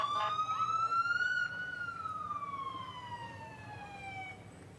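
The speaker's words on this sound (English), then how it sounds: "it's always comforting to hear the police vehicles" A police motorcycle siren wails at an Independence Day parade in Pittsfield, a single long tone sweeping up then gliding down, fairly distant over crowd murmur.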